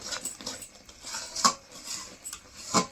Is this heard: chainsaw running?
no